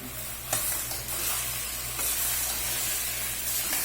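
Beans and new potatoes fry in a pan with a continuous close sizzle, broken by a few soft knocks from stirring. No voices are heard.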